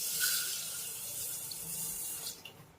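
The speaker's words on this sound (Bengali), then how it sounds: "এবার কিন্তু অবশ্যই এই ডালটাকে একটু ভালোভাবে ধুয়ে নিতে হবে" Fried lentils are washed with water, heard as steady running water close by, a continuous splashing flow that tapers near the end.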